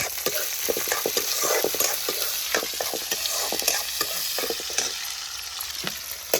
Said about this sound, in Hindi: मेथी और प्याज के फोड़न